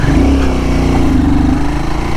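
Royal Enfield Guerrilla 450 motorcycle engine running steadily at low rpm, a loud, continuous close-up thrum with a low throbbing pulse, held under half clutch and no voices.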